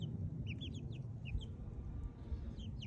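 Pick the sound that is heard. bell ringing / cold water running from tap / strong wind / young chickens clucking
young chickens clucking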